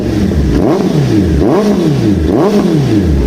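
A 2019 Honda CBR650R sport motorcycle engine revs up and down three times in a steady rhythm, loud and close, each rev climbing and falling back to idle.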